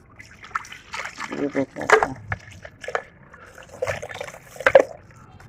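Iced sugarcane juice is poured into a jug in short sloshing, trickling bursts of liquid, close by, with someone speaking briefly between the pours.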